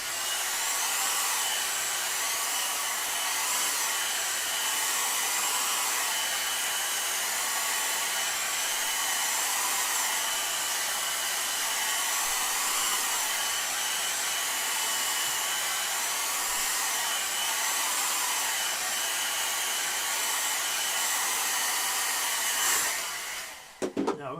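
A hair dryer blows steadily on a wet watercolour painting, a loud continuous whooshing drone that runs without pause for over twenty seconds before cutting off at the end.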